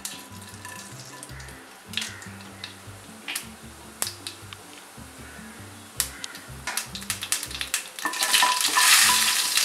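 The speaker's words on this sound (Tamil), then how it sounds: "இப்போ எண்ணெய் காஞ்சிட்ருக்கு. இப்போது கடுகு ஊற்ற மாதிரி போட்டுருவோம்." Mustard seeds are tossed into hot oil for a Tamil moong dal upma, crackling and popping in sharp scattered bursts that build into a denser, louder sizzle toward the end, close to the pan, with no speech.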